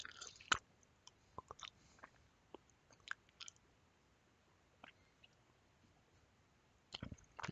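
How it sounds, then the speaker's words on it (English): Gum chewed in a quiet room, with faint wet clicks and smacks scattered irregularly across the stretch and a louder burst of chewing near the start and again at the end. "Okay, maybe getting this gum was a bad idea."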